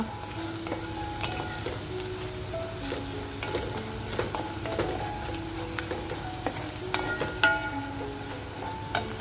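Homemade all-in-one masala sizzling and frying in a pan for mutton masala, with soft crackling and occasional clinks and scrapes of stirring, fairly quiet and close, with no talking.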